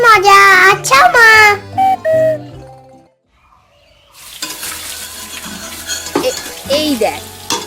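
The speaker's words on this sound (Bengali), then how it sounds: "এই দেখ, আমি এখন ভাজছি।" An animated cartoon kitchen scene with food frying in a pan: a sizzling, stirring sound effect fills the second half after a brief quiet gap, preceded by cartoon voices talking.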